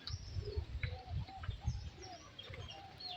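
Pigeons at a pigeon farm holding about fifty birds coo softly in repeated low throaty calls, with scattered chirps overlapping, fairly faint and close.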